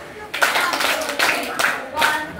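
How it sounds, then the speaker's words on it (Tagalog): A group claps in time during a class demonstration, sharp rhythmic hand claps in a short, even sequence with a voice faintly under them. "Ang gagawin lamang ninyo ay 5 palakpak, 5 badyak"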